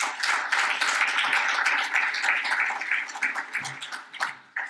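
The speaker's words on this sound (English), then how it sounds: "Please give me a round of applause for Gernot Hacker." A conference audience applauds loudly for several seconds, a dense burst of clapping that gradually thins into scattered claps before fading out.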